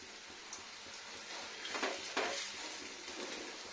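Ajwain-leaf pakoras fry in a shallow layer of a little oil, giving a quiet, steady sizzle with a few brief crackling bursts, heard alone without talk.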